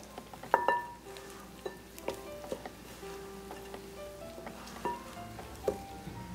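Chicken drumsticks tossed with spices, ground nutmeg among them, in a bowl, with soft scattered clinks and taps against the bowl and gentle moist stirring, fairly quiet and unhurried, with no talk.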